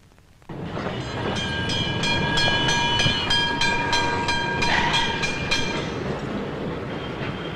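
A tram rolls along its rails, a loud steady rumble with evenly spaced clacks of wheels over rail joints and a faint metallic ring above.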